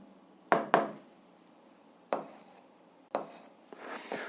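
Chalk or marker scratches out an algebra equation on a board in a quiet room, in short separate bursts of scraping and tapping strokes with pauses between them, close and fairly soft.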